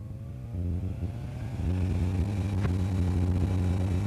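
A Foxbat A22 light aircraft's engine running up to takeoff power as the nose lifts, a steady droning hum that swells slightly and holds, heard from inside the cabin with no talk.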